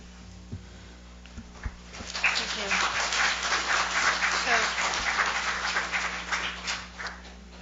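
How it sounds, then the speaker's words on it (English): Audience applause at a transit board of directors meeting, a swelling wash of clapping that rises after a couple of seconds, holds steady, then tapers off. "if we could refrain from applause after every speaker"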